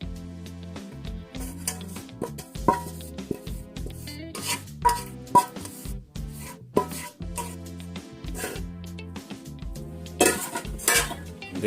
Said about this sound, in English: You spread your caramel on top.